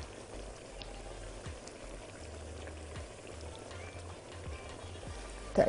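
Tomato sauce with chickpeas simmers in a pan, a faint, steady bubbling with soft pops and gentle liquid sounds, heard close and quiet with no talk.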